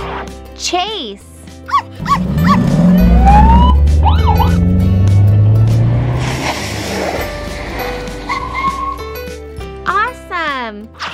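A toy police car siren wails over upbeat music and cartoonish sound effects, with a dog barking and voices talking throughout, loud and busy.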